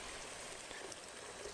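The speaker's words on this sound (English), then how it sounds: "So I add water" Water pours into a pot of chickpeas for a vegetarian green chile stew, making a faint, steady splashing rush that lasts the whole moment.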